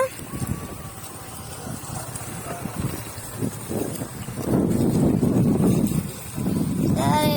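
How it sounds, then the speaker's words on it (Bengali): Strong wind buffets the microphone on a river in the late afternoon, a steady rumbling roar that swells louder midway, with an engine-like hum and talking voices mixed under it. "এখানে অনেক বাতাস।"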